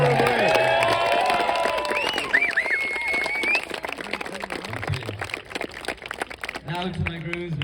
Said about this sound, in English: I'd like to just get everyone to give a round of applause for Dara, who made such a brilliant.